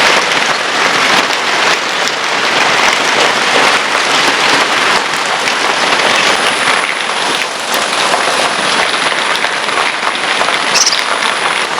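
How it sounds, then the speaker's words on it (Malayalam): Heavy rain pours outside near an aviary of finches and parrots, a loud, steady, dense hiss of drops on surfaces lasting throughout. A faint high tone and brief chirps sit above the downpour. "അപ്പോൾ നോക്കുമ്പോൾ നല്ല മഴയും."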